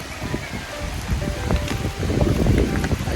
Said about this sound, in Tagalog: lumalakas po ang ambon